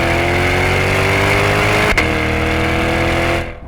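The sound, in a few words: 2020 C8 Corvette mid-engine revving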